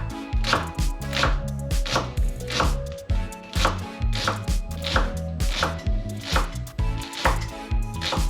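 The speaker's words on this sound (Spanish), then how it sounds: "luego lo vamos a picar así muy finito" A knife finely chops thick leek stalks on a board for a soy sauce macaroni recipe, a loud, close, steady run of rapid rhythmic taps with no talking.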